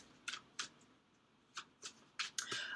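Oracle of Souls oracle cards are shuffled close up in quick, papery bursts, a pair early, a pause, then several more rapid riffles, soft and without talk.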